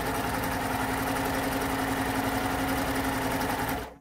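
A Baby Lock Euphoria coverstitch machine runs a chain stitch at a constant fast rate, a close, steady mechanical whir and rapid needle chatter that stops abruptly at the end, with no talking.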